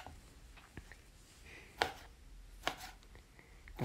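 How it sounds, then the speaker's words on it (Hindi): A knife cuts tomatoes into fine slices on a chopping board for chicken biryani, giving a few sharp, close chops spread out over a quiet background, with the two strongest strikes near the middle. "तो टमाटर के देखें हम बारीक बारीक स्लाइसिस कर रहे हैं।"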